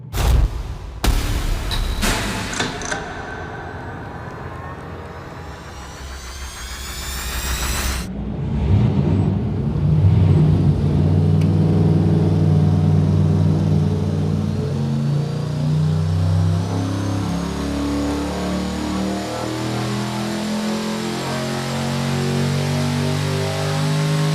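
Turbocharged junkyard short-block engine making about 1,500 horsepower on a dyno, a few sharp loud bangs up front, then a deep roar climbing steadily through a long full-throttle pull, loud and close, with no talk.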